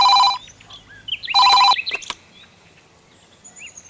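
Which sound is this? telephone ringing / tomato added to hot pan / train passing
telephone ringing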